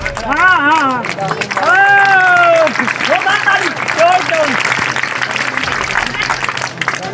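A crowd at an outdoor statue inauguration ceremony in a village breaks into applause, while a voice talks loudly over the clapping throughout.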